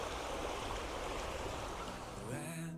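A fast-flowing river in Slovenia rushes in a steady, loud broadband roar of churning water, continuous and close throughout, with no voices.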